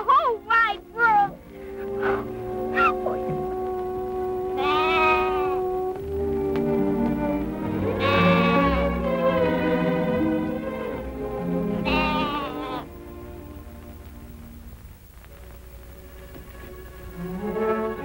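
Young lambs bleat in a run of wavering, nasal calls, with several overlapping cries in close succession and quieter bleats trailing off toward the end.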